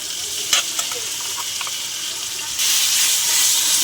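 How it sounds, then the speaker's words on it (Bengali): A spice paste of ginger, garlic, tomato and green chilli with cumin and coriander powder sizzles loudly in hot oil. It hisses steadily and close by, with a few scraping stirs, and the sizzle swells near the end. "সেই মশলাটা কষিয়ে নেব"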